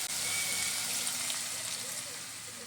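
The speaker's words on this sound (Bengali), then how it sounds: "এবার আমি এর মধ্যে দিয়ে দেব জল।" Water poured into cauliflower frying in a pan, with a steady broad hiss and sizzle that fades slightly over a few seconds, close and fairly loud.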